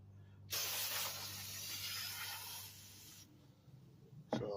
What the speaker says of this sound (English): we're gonna get some brake part cleaner and we're gonna try to spray that down